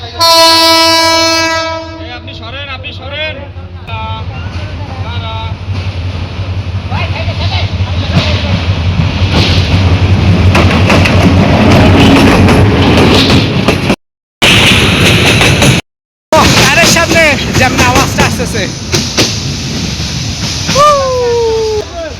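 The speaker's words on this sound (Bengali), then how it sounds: "এখন ট্রেন আসবে সো দেখো ট্রেন আসবে" A train pulls in near Srimangal, Bangladesh, its horn blaring in long sustained tones at the start, then the loud rumble and clatter of rail cars passing close by, with people talking over it.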